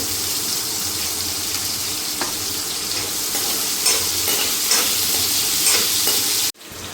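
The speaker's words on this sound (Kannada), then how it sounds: "ಈರುಳ್ಳಿ ಕಾವು ಸಣ್ಣಗೆ ಹಚ್ಕೊಂಡಿದೆ, ಅದನ್ನು ಹಾಕ್ಕೋಬೇಕು." Chopped onion for paneer manchurian fries in oil with a steady close sizzle, broken by a few clattering stirs before a sudden cut near the end.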